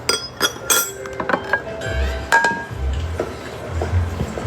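A knife cuts strawberries on a plate for fruit salad, giving a run of light clinks and taps against the plate with brief irregular gaps, close by and fairly crisp.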